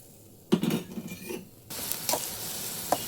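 Onions, green chillies and curry leaves go into hot oil in a pan: a brief clatter of cookware and utensil knocks, then a sudden broad sizzling hiss that carries on with a few stirring taps.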